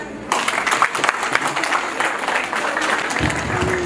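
Guests at a wedding anniversary celebration in Houston, Texas, break into a burst of applause that begins abruptly and carries on steadily, a dense wash of clapping from a crowd nearby with some murmuring underneath.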